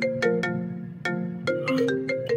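A mobile phone ringtone goes off repeatedly in quick bursts, a bright melodic chime pattern that is close and clear with no talking over it.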